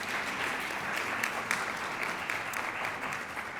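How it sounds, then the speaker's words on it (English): A crowd applauds steadily, a dense wash of clapping that holds at an even level throughout. "Now there's applause."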